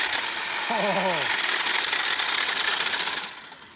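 A DeWALT hedge trimmer chatters loudly and steadily as its blades hammer through a thick branch, a dense rattling buzz that eases off near the end, with a short voice exclamation early on.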